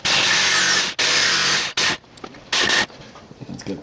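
A drill bites into the metal of an RV window crank operator in several loud, close bursts of whining, then stops, leaving quieter handling noise.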